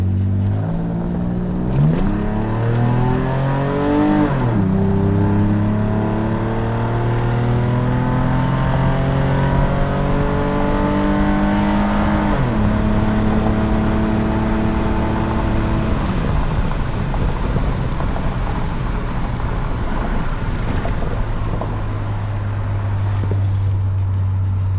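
Nissan 300ZX Z32 accelerating briskly on the road, heard from inside the car as the engine pitch climbs through gears with clear shift drops, then settles into a steady highway drone, loud and continuous with no talk.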